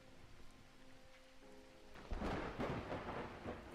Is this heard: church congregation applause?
no